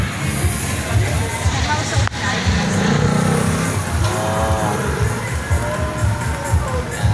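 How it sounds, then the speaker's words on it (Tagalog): Busy street traffic in Raon, heard from a tricycle, with car and motorcycle engines rumbling and revving close by under a steady babble of voices and crowd noise. "Ayan, sa tricycle ako dito."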